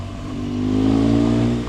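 A car engine drives past close by on an Alpine mountain road, a short, loud swelling drone that rises in pitch and then eases off, with no talk.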